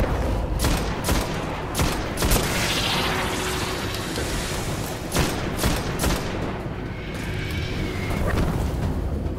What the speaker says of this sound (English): What is that shooting at me?